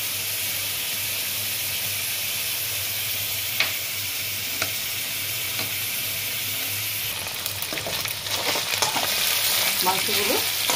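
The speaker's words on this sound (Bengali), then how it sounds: "মাংসগুলো ভাজা হয়ে গেছে, তুলে নেব" Minced chicken sizzles and hisses in hot oil in a pan as it is stirred, a constant close frying noise with occasional scraping stirs that grow busier toward the end, no talk.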